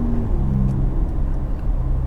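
A 2019 Ford F-150 Raptor pickup drives along, its steady low engine and road rumble filling the cabin evenly, with no talk over it.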